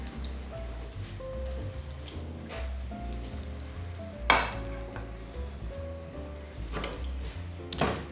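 Food sizzles softly in a pan as its second side fries, a steady low crackle with a couple of sharper pops, under background music.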